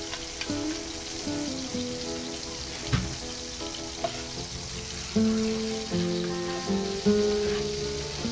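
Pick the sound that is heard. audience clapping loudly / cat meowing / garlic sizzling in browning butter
garlic sizzling in browning butter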